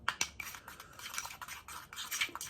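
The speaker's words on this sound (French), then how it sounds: "Et on fait notre petit mélange." A small mixture stirred in a bowl, quiet, irregular clinks and scrapes of a utensil against the sides, coming in short uneven bursts close by.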